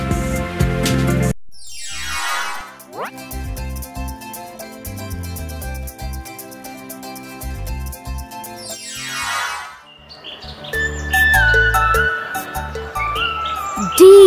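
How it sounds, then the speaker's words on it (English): A flock of jungle birds in a children's animated story chirps and tweets in quick, bright bursts, set against a playful musical score. "there lived a flock of birds."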